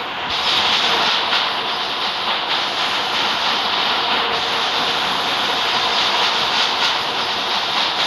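A train in the video game Indian Bikes Driving 3D rumbles along steadily on its way to Cox's Bazar station, a loud continuous roar with no talking.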